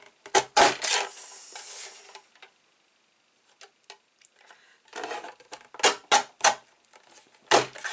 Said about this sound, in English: I love the guillotine, it's brilliant for this sort of stuff.